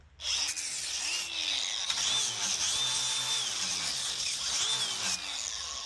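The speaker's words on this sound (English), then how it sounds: "I use the flap disc here" A power tool fitted with a flap disc sands glue off wooden joints, giving a close, continuous whirring grind with repeated sweeping strokes as the disc moves across the wood.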